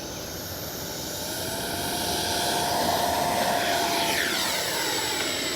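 A FlyFans L-39 Black Diamond 64mm electric ducted-fan RC model jet takes off with a steady whooshing whine that swells in loudness as it passes, alone with no voices.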